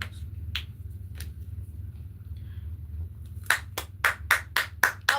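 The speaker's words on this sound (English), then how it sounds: "I'm gonna pop my fingers." A person pops their fingers, making a quick run of about seven sharp, crisp clicks in close succession near the end, after a few scattered softer taps over a low background hum.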